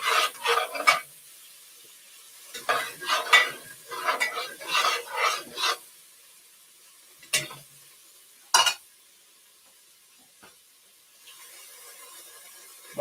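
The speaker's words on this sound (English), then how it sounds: "you want to get the fond off of there. Scrape that around, get any bits and pieces" A spoon or spatula scrapes browned fond from the bottom of a pot while starting beef barley soup, giving bursts of rasping, stirring strokes with a faint sizzle, then a few sharp clanks and a quieter tail.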